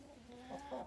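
Backyard chicken clucking close by, faint and short, with a couple of rising nasal clucks toward the end.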